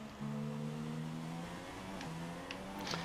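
An F1 car's engine in the F1 2016 video game drones steadily as it accelerates out of a corner, a continuous mid-loudness whine with slight pitch dips and no voices.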